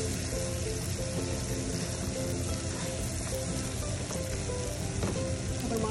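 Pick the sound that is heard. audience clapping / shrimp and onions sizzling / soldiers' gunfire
shrimp and onions sizzling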